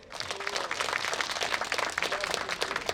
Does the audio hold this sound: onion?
no